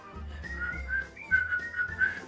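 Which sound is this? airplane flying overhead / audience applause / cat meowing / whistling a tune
whistling a tune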